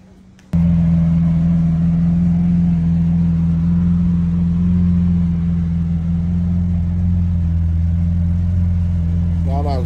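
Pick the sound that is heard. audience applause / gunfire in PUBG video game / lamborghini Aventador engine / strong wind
lamborghini Aventador engine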